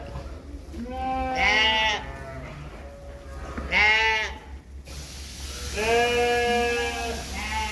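Sheep bleat on a Thai farm where ewes are kept for milking and cheesemaking, with three loud, wavering calls spaced a few seconds apart over steady low background hum.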